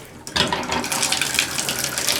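Hotel bathroom shower at a Travelodge in Simcoe, Ontario switching on and then running steadily, a close, continuous hiss of spraying water filling the room.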